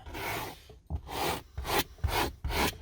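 A stiff-bristle brush scrubs back and forth against car carpet in a steady rhythm of raspy strokes, close and fairly loud, with no talking.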